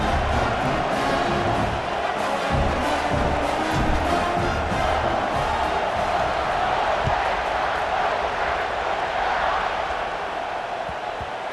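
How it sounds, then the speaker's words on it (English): A stadium crowd in EA Sports College Football 26 roars in a sustained, dense wash of cheering that holds loud throughout and eases slightly near the end. "You think this crowd's going to get loud when their defense comes on the field?"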